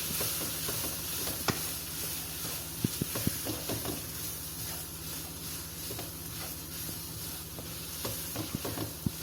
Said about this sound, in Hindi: इसको अच्छी तरह 2 से 3 मिनट अच्छी तरह मिक्स करूंगी